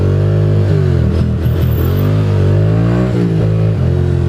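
A motorcycle is ridden through city streets toward Harlem, its engine loud and close, holding a steady drone while revs rise and fall several times.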